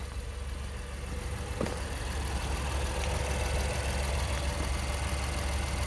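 A 2019 Honda Ridgeline RTL AWD pickup idles steadily with a smooth, even low hum close by and one faint click partway through, with no voices.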